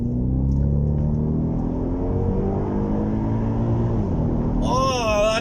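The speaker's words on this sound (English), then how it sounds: "one of the biggest reasons that you buy a V8 is purely for the noise" A deep V8 car engine rumbles steadily and loudly up close, then surges into a sharp rising rev near the end.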